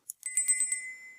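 Short bright notification chime of a subscribe bell: a quick tick followed by a sustained high ringing tone with a few shimmering repeats, fading out alone within about a second.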